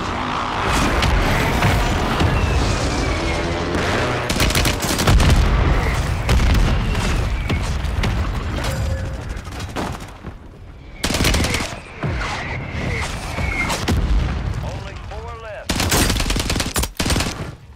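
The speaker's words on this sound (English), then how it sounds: "Hostile airstrike near your location." Call of Duty combat fills the air with booming airstrike explosions and bursts of rapid machine-gun fire, loud and close, with sharp blasts breaking through near the end and voices mixed in.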